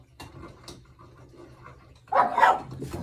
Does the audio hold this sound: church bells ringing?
no